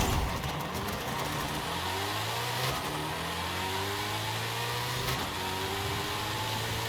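A manual-transmission car in Forza Horizon 5 revs hard and climbs through several gear changes, the engine note rising, dropping at each shift, then rising again, loud and close under a steady roar.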